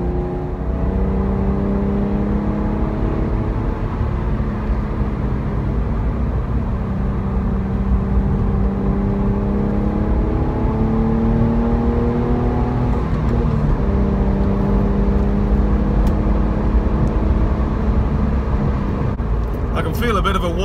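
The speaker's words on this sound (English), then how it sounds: "Idea of the sound of the car from inside the cabin." A Porsche 911 (996) on its first drive after winter storage, heard from inside the cabin: a steady engine drone with shifting tones as it accelerates and changes gear, plus road and wind noise throughout.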